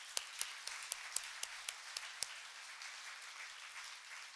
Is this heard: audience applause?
yes